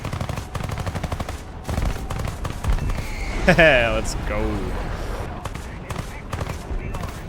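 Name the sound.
aircraft cannon fire in War Thunder video game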